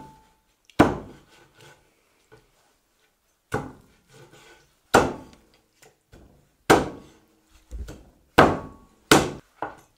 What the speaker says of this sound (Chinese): 先要把这鸡腿一剁